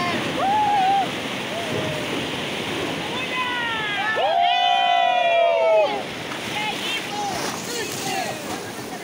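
River rapids rush loudly around a raft on the Sinigüí river in Barinas, a constant roar of churning water with people shouting and talking over it, voices peaking mid-way.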